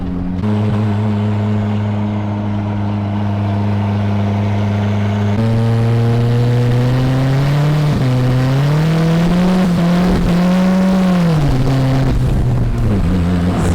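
An open-differential off-road truck, now set up as a street racer, revs hard while rounding a corner and spinning its rear tire; a loud, steady engine drone climbs and wavers in pitch for several seconds, close to the microphone.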